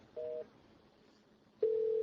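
Phone call tone from MXIE communication software: a short faint electronic beep, a pause, then a steady sustained ringback tone starting, clean and alone with no talk.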